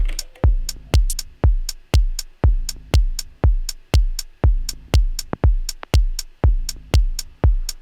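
Elektron Digitakt drum machine percussion playing a steady shuffle groove, punchy kicks and crisp hits repeating in a driving rhythm, loud and alone.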